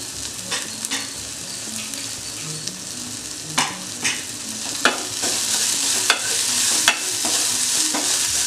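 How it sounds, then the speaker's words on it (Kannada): Chopped banana flower stir-fried in a pan gives a constant close sizzle, punctuated by several sharp scrapes and knocks of a spatula against the pan. "ಇವಾಗ ಬಾಳೆ ಹೂವನ್ನು ಏನು ಕಟ್ ಮಾಡಿದ್ದೀವಿ ಅದನ್ನು ಹಾಕ್ತಾ ಇದ್ದೀವಿ."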